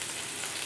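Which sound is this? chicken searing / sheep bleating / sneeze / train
chicken searing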